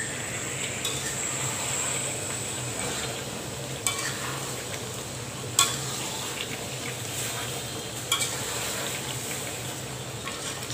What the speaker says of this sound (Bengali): আবারও আমি নেড়ে চেড়ে দিচ্ছি আমার আচারটা।